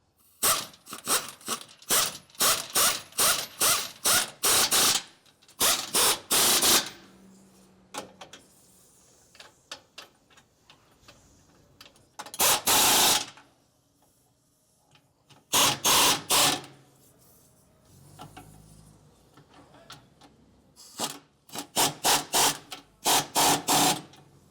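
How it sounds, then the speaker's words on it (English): Rapid bursts of ratcheting clicks come in repeated runs separated by pauses, loud and close, as 1/2-inch bolts are worked tight installing Torklift Apex anchors on a Ford F-150. "you want to tighten down all 4 1/2-inch bolts"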